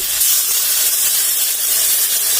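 Spice paste of cumin, mustard, ginger and garlic hits a hot pan with onions already in it, giving a continuous loud steamy hiss and sizzle throughout, with no talking.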